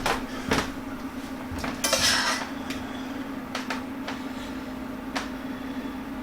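Chicken piccata and pasta are plated with clattering dishes and utensils, a few sharp clinks and scrapes spread out over a steady kitchen hum, with no talking.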